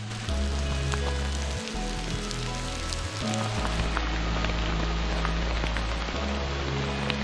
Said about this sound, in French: Ça grêle bien fort.